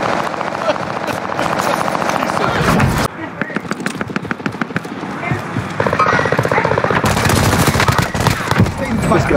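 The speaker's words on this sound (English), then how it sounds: "Stop shooting at me!" Rapid bursts of automatic gunfire in the video game Call of Duty Warzone, loud and close, with dense rattling volleys interrupted by a brief sudden drop in sound before more staccato shots and continuing battle noise.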